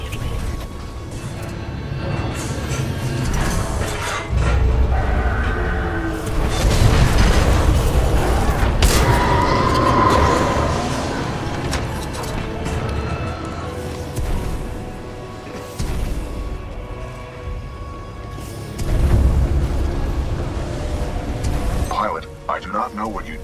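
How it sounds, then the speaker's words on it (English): Booming explosions rumble through an industrial complex in the video game Titanfall 2, a series of heavy blasts with dense low-end roar that swells and fades over about twenty seconds, with a game character's voice speaking over them. "a series of explosions just weakened the manipulator arm"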